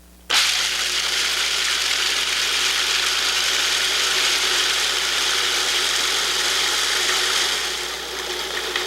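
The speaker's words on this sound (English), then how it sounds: "Add the peanuts to the work bowl with the metal blade in place. Turn the machine on and watch." A Cuisinart DLC 7 or 8 series food processor chops peanuts with its metal blade in a Lexan work bowl, starting abruptly into a loud, steady rattling whir that holds for about eight seconds and eases slightly at the end.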